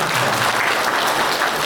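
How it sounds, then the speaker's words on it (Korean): Loud, dense applause from a large audience at a political campaign event in Haenam, South Korea, an even wash of clapping with no pauses. "박수 부탁드리겠습니다."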